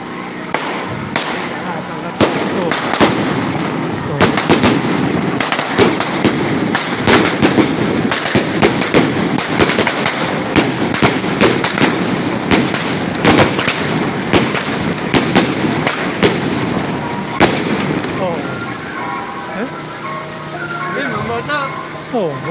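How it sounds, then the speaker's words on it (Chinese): Fireworks set off at a temple after a procession enters, a long barrage of rapid cracking explosions that keeps going for about twenty seconds before thinning out, with crowd voices underneath. "入庙完了还放烟火放那么多啊！"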